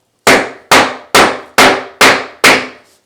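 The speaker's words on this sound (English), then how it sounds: "Same 2-pound sledge, nails it down all the way." A two-pound sledgehammer drives a nail into concrete with six sharp, loud metallic strikes at an even pace, each ringing briefly before the next, with no talking.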